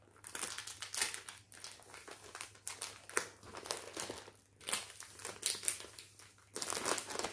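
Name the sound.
plastic sachet crinkling as a diamond painting canvas is put back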